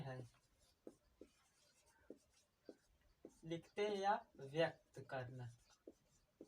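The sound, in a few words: writing math notation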